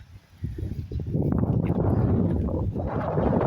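Strong mountain wind gusts outdoors in the countryside, roaring and buffeting the microphone in a broad, continuous rush that swells after a brief lull.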